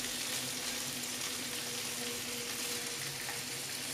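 Chicken pieces for Saudi chicken kabsa roast in a hot pan, giving a steady, even sizzle that carries on unbroken at moderate loudness, with a faint low hum underneath and no voices.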